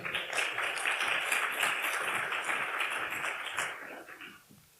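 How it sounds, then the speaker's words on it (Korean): Audience at a Korean-language speech contest in Shizuoka claps for the first speaker, a dense, fairly distant round of applause that holds steady before tapering off over the last second. "큰 박수 부탁드립니다"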